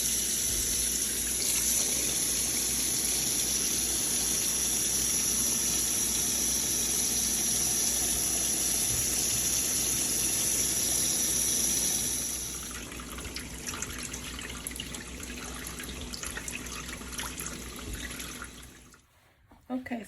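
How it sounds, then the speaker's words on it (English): Tap water runs steadily into a kitchen sink while vegetables are washed for Mexican meatball soup, a loud continuous rush that softens and shifts partway through, then stops near the end. "washing the vegetables before I start my meal"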